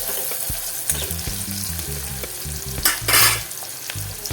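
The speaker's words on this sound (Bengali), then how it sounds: "পেঁয়াজ কেটে রসুন কেটে দুটোই দিয়ে দিলাম যাতে ভালো করে আমি ভেজে নিলাম" Chopped onion and garlic fry together in a pan for a Bengali prawn malai curry. A steady sizzle runs under repeated scraping stirs, with a low hum beneath and a louder rush near the end.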